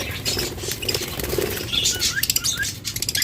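Lovebirds about fourteen to fifteen months old flutter and chirp inside cages at a bird sale, with close wing flapping and patter joined by scattered high tweets that grow more frequent near the end, no voices.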